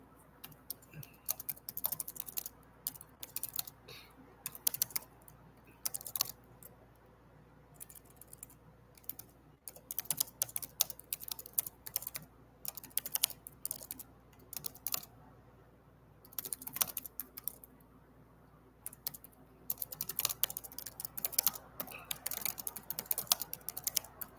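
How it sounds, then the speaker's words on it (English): Someone types on a computer keyboard in irregular bursts of quick, close, soft key clicks with short pauses, steady and quiet throughout, with no talking. "just typing"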